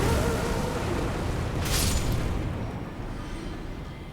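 Enemies blowing up in the Elden Ring video game, a rumbling explosion that swells loud with a sharp burst near the middle, then slowly fades into a lingering low roar.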